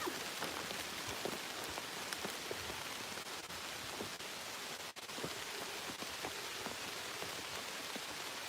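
Steady rain patters on an umbrella and the surrounding ground in a Luxembourg village, a dense, even hiss of drops with faint individual taps, heard up close and without voices.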